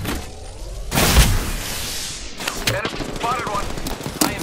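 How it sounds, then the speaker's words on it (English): Gunfire in an Apex Legends match: a heavy close shot booms out, followed by a rapid rattle of further shots and impacts mixed with game effects. "taking fire, friends"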